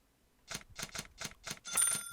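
Simulated mechanical keyboard typing from the Opera GX browser sound settings: six crisp, evenly spaced keystroke clicks after a silent start, with a faint tonal chime at the end.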